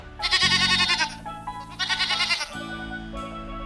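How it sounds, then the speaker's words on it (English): Sheep bleating, two loud wavering bleats close up, each lasting about a second with a short pause between, alone with no voices. "Sheep."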